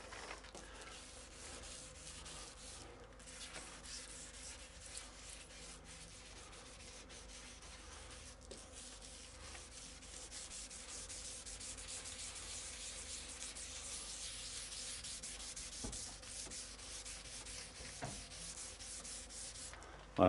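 Steady, even hand sanding of a Peugeot 406 car body with abrasive on a block rasps on without pause, a continuous abrasive rubbing with occasional faint knocks, close by and moderately quiet.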